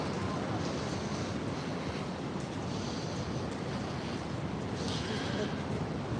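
Surf washing ashore at Kata Beach in Phuket, a steady, continuous roar of breaking waves mixed with wind buffeting the microphone, with no clear gaps.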